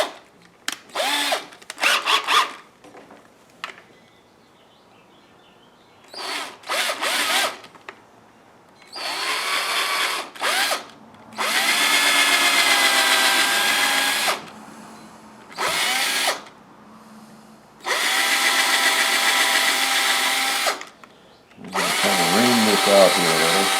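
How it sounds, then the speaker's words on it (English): Small drill fitted with a 1/8 inch bit boring into a wood carving of a Native American bust, whining in repeated bursts of varying length, some short and some long and steady, separated by quiet pauses. "I'm going to put in a 1/8 inch drill"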